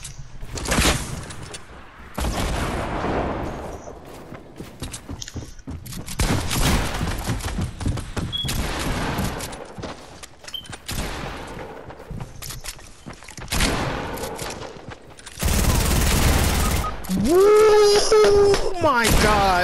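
Gunfire in the video game Fortnite during a duos match, loud bursts of shots and impacts recurring across the stretch, with heavy effects and a sustained barrage near the end, while players talk over it.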